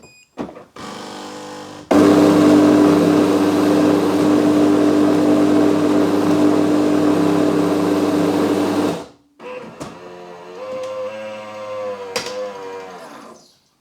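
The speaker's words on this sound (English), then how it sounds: "So I know it's had to grind the coffee, and that can be quite a noisy process" A Siemens espresso machine grinds coffee with a loud, steady, droning buzz lasting about seven seconds, followed by quieter mechanical whirring and clicks as it continues brewing.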